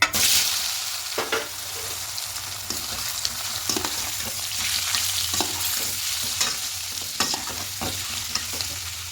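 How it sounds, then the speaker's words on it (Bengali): Potatoes frying in hot oil in a pan give a steady, bright sizzle, broken by sharp clicks and scrapes of stirring, close and continuous with no talk. "তেলটা আগে থেকে গরম হয়ে গেছে এবার এখানে আলুগুলো দিয়ে দেবো"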